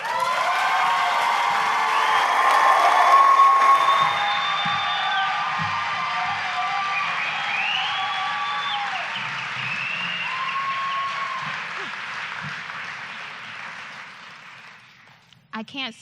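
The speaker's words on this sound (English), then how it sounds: "So will you please welcome, with an excited clap of the hands" At a fashion fundraiser event, an audience welcomes a speaker with loud, sustained applause and cheering that fills the room, then slowly tapers off to near silence before a few closing sounds.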